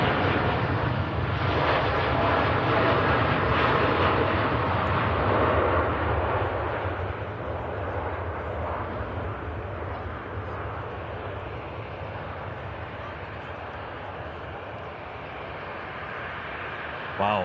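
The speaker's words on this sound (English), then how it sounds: "Wow, really long rotation there from the TUI Dreamliner." A TUI Boeing Dreamliner jet takes off at Manchester Airport with a long rotation, its engines roaring loud and near at first before the broad rumble eases and fades steadily as it climbs away.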